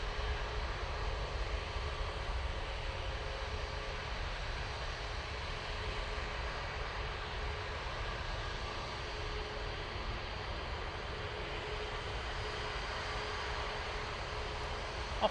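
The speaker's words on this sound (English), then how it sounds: "Ryanair off to Rome" Steady broadband jet roar of a Ryanair airliner taking off from Manchester Airport, loud and continuous throughout, with no voices heard.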